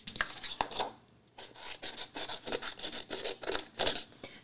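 Scissors cut a shape out of linen-textured paper by hand, with short close rhythmic snips and rustling paper scrapes at a quiet level.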